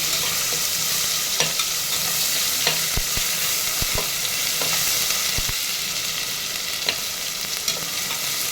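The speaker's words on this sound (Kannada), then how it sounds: "ಶುಂಠಿ ಬೆಳ್ಳುಳ್ಳಿ ಪೇಸ್ಟು ಎಲ್ಲನೂ ಹಾಕೊಂಡು ಚೆನ್ನಾಗಿ ಫ್ರೈ ಮಾಡ್ಕೋಬೇಕು" Ginger garlic paste sizzles steadily in a pan, with a constant hiss and scattered scrapes and knocks as it is stirred, close by and with no voices.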